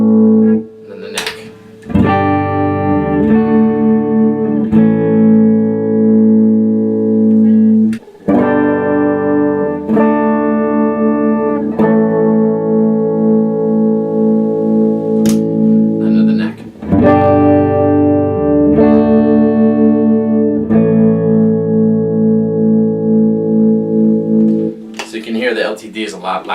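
Sustained electric guitar chords from an EMG neck pickup, played through a Fender Deluxe Reverb '68 reissue amp, are strummed one after another and left to ring, with brief gaps and a scratchy noise at the end.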